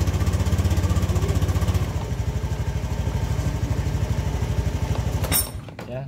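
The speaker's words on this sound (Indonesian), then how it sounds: "Lihat hidup motornya." A Honda Beat scooter engine idles close by with a rapid, even chugging pulse that loosens slightly, then cuts off abruptly near the end with a brief clatter.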